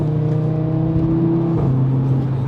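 Five-cylinder engine of an Audi RS3 8V holding a steady idle-like drone, close and loud, then the pitch drops slightly as revs settle, with no talking.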